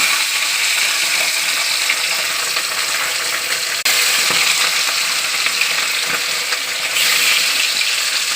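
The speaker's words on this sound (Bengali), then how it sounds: "তেল গরম হয়ে গেছে, দিয়ে দিচ্ছি মাছ।" Katla fish frying in hot oil, a loud, steady sizzle and crackle throughout with a couple of sharper pops, no talking.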